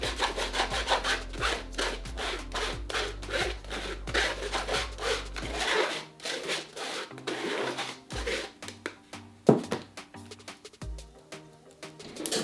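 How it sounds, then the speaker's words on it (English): Confectioner sugar and almond flour are whisked together for macarons, giving a fast, rhythmic scraping and rubbing close by that slows into scattered strokes toward the end. "I will whisk to create a homogeneous mixture of the confectioner sugar and almond flour"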